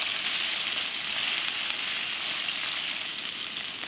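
Potatoes frying in hot oil in a pan, a steady close hiss and sizzle that holds evenly throughout with no voices.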